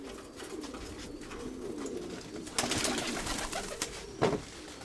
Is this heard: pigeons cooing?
yes